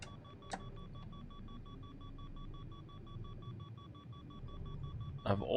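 Faint, steady electronic cockpit beeping in an F-22 Raptor in Microsoft Flight Simulator repeats at an even pace over a low engine rumble, with a brief louder burst near the end.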